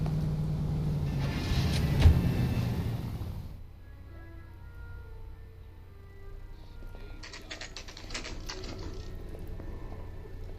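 A car drives in the video game L.A. Noire with a loud engine rumble at first that drops off after a few seconds. Quieter clicking and faint background tones follow.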